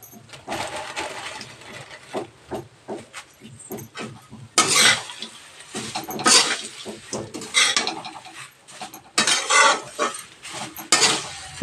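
Poha (atukulu) is stirred and fried in oil in a pan, with repeated close scraping and clattering strokes of a spoon against the pan in uneven bursts over a faint background sizzle.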